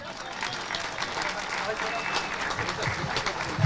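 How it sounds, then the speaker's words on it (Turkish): Crowd applause at a gathering with fishermen from Tuzla, a steady, moderately faint wash of many hands clapping throughout, with a voice talking over it near the end. "Evet buraya bir alkış biliyorsunuz."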